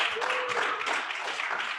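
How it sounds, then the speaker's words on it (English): A live comedy crowd in Las Vegas claps and cheers in a dense, steady wash of applause that lasts the whole moment. "Clap it up for South Korea in the building."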